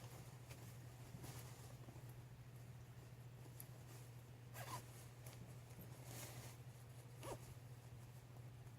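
Zipper on a tent pulled closed in a few short rasping bursts, fairly close, over a steady low hum and faint background noise.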